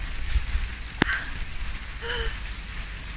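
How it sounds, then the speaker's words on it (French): Rain starting to fall outdoors, a soft steady patter of drops hissing across surfaces, with a faint brief knock and a short chirping tone partway through. "Il s'est mis à pleuvoir."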